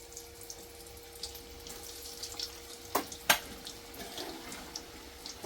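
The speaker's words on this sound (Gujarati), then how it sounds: "ઓઇલ બી ગરમ થઈ ગયું છે. તો એની અંદર ફ્રાય કરવા નાખી લઈશું" Chips dropped into hot oil for frying give a soft, low crackling sizzle with a couple of sharp louder pops near the middle, heard close and fairly quiet.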